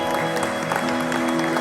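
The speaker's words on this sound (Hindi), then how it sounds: "ताली बजाएं जरा जोर से." A revival meeting audience in Budapest claps loudly and steadily throughout, over a sustained musical tone in the background.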